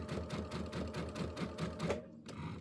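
A sewing machine stitches along a seam on table runner fabric with a fast, steady rhythmic chatter for about two seconds, then stops abruptly and leaves only a faint hum.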